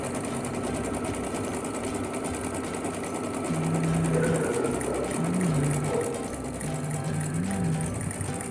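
A home embroidery machine stitches an in-the-hoop Easter basket project, giving a steady, fast mechanical whirring chatter throughout, close and continuous, with a few faint tonal whistles in the background.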